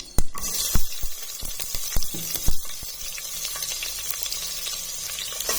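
Onion and mustard seeds frying in hot oil in a pan, a steady sizzle broken by sharp pops and crackles of bursting seeds and a few clinks of stirring.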